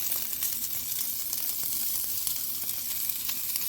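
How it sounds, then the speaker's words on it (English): Bacon sizzling in a pan for chicken gravy, a loud, steady crackling fry with scattered sharp pops, close up and continuous with no talking. "Oh yeah, that's what you want to hear. That nice sizzle."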